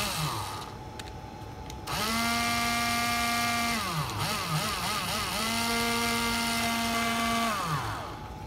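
A Taiwanese cordless battery drill whines at high speed in two long sustained runs, spinning up and winding down between them, loud and close with no talk over it.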